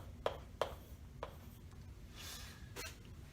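Pen scratching across a paper cheque, a few quick strokes with sharp scribbles near the start, then a longer soft scratch toward the end, close and quiet with no talking.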